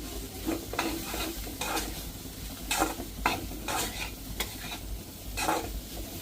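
Grated coconut is stirred into a dish in a pan over low sizzling, with repeated scraping strokes of a utensil against the pan at a loose, regular rhythm.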